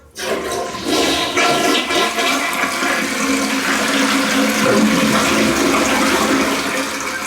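A toilet flushes after a new Korky fill valve has been fitted, a loud, steady rush of swirling and draining water that starts abruptly and runs on for several seconds without talk.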